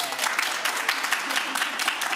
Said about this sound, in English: Round of applause if it's not your first time